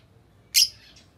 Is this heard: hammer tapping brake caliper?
no